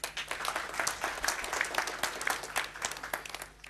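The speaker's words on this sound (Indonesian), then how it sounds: "Tepuk tangan" Congregation applause during an Indonesian sermon on evangelism, a dense, even patter of many hands clapping at moderate loudness, continuing steadily without speech.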